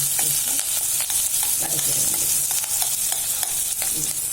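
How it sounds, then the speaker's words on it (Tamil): Chillies and curry leaves are sautéed in a pan for garlic chutney, with a bright continuous sizzle and frequent quick stirring scrapes, loud and close. "மிளகாயை போட்டு அந்த பச்சை வாசம் போகிற வரையிலும் ஒரு நிமிஷம் வதக்கிட்டு கருவேப்பிள்ளையும் வதக்கிடுவோம்"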